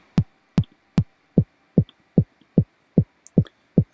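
Short 909 kick drum sample for a raw hardstyle kick, shaped with EQ; ten tight, punchy thumps at a steady even tempo, upfront and alone, the later hits slightly softer at the top.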